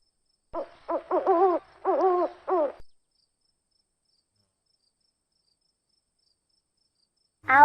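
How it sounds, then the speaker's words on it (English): Owl hooting in a series of five short, close, tonal hoots with brief gaps, followed by silence and the start of another call at the end. "owl,"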